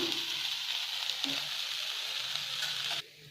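Dosa batter cooking on a hot pan, a soft, even sizzle that holds steady for about three seconds before dropping away abruptly, with no voices.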